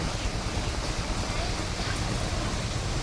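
Rain pours down steadily at an outdoor vendor's market stall, a constant dense hiss of drops with a low rumble underneath, loud and unbroken throughout.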